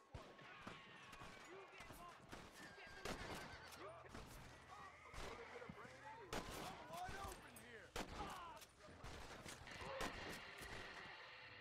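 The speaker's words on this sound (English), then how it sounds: "Why is shooting happening?" Gunfire in the Western video game Red Dead Redemption, set in Armadillo: repeated sharp shots crack out across the stretch, some spaced singly and others in quick bursts, over a steady bed of game ambience.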